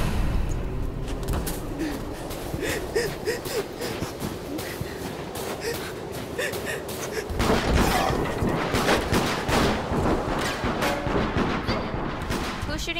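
Continuous gunfire fills a round of the video game Deceit, with dense overlapping shots and bursts at steady loudness that grow busier and harsher toward the end, with no clear talk.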